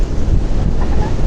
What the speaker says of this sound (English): A lot of waves.